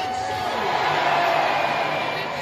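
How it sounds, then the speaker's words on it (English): A crowd of protesters cheering, a loud, continuous roar of many voices that stays steady throughout, with talk layered over it. "And they're cheering that they won."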